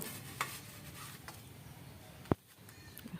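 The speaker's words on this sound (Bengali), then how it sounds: "এদিক ওদিক ভাজা হয়ে গেলে নামিয়ে নেব" Soft, steady sizzle of a roti frying on a pan, faint throughout, with a sharp tap partway through.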